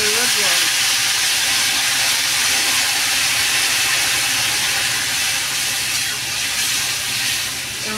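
Water goes into a hot pan of cooking pumpkin, Malabar spinach, jackfruit seeds and shrimp, raising a loud, steady steaming hiss and sizzle that carries on for several seconds.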